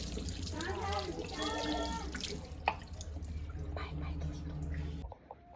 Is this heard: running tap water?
yes